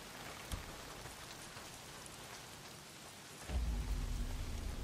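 Rain falling in the video game Days Gone, a steady dense hiss of drops throughout, with a brief low thump early on and a deeper rumble swelling in near the end.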